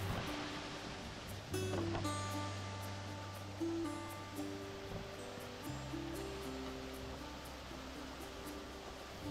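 A continuous rushing of a mineral spring stream in a village fills the clip, broad and steady, with a few faint tonal hums layered underneath.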